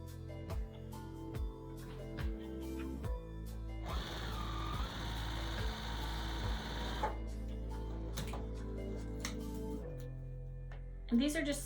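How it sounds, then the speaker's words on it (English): Sewing machine stitching quilt pieces together, a faint quick mechanical whir running for a few seconds between quieter handling clicks and thumps, with someone talking in a quiet room. "now we'll just sew our 2 sides together, and then we'll sew it to the center stem."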